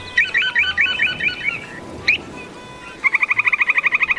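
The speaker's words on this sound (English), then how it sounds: "the purple sandpiper." A purple sandpiper, a small shorebird that forages on rocks in crashing surf, gives a rapid series of sharp chirping calls. A brief pause follows, then a faster, steady trill of repeated notes over a constant rushing background.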